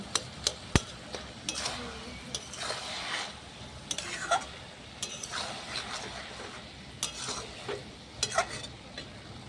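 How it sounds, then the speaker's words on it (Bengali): A hilsa fish head cooked with cabbage and potato into ghonto is stirred in a pan, with a steady scrape, faint sizzling and frequent sharp clinks of a utensil against the pan edge. "নেড়ে নেড়ে একেবারে ঘন্ট তৈরি করে দেবো"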